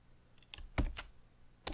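Several crisp keystrokes tapped on a computer keyboard while entering data, close and fairly loud, in an uneven burst of about five to six presses with short gaps, with no talk over them.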